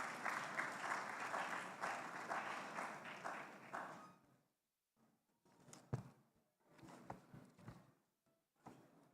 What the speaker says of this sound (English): Can we have a round of applause for these past presidents